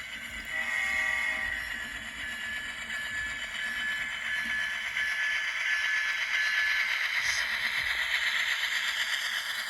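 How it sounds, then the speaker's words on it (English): N-scale model train cars roll past on a home layout, a steady light rattling and whirring that swells slightly as they pass, close and continuous, with no talk. "the cars going by are the cars I bought at the Altoona N-Scale train show"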